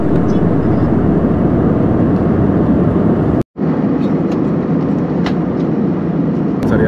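Steady broadband roar of a jet airliner cabin in flight on a Delhi transit route, loud and constant with a brief cut partway through.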